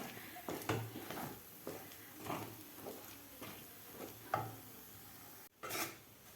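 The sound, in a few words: stirring mung dal sheera mixture in a pan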